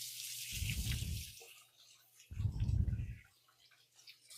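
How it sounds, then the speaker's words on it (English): Hands are rinsed under a running kitchen tap in two short bursts of splashing water, fairly close, with quiet pauses between and no talk. "I'm going to give my hands a quick rinse."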